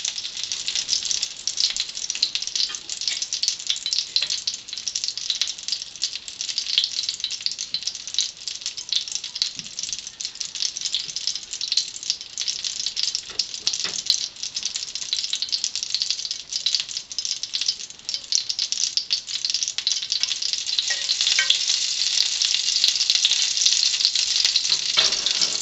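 Hedgehog mushrooms fry in butter in a pan, giving a loud, steady crackling sizzle that runs for the whole stretch, with occasional rattles from stirring.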